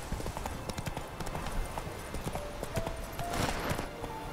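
The horse Roach gallops in The Witcher 3, a steady run of near, rhythmic clip-clop hoofbeats with faint game ambience underneath and a brief whinny-like tone.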